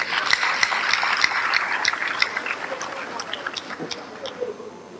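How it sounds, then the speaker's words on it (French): Applause from an audience at an honorary doctorate ceremony, steady clapping at moderate distance that slowly fades, with some voices underneath. "Et ça mérite des applaudissements."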